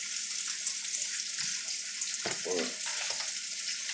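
Whole bluegill fry in oil heated to about 370 degrees, giving a steady crackling sizzle. A few soft clunks and scraping stirs break in near the middle, and no one speaks.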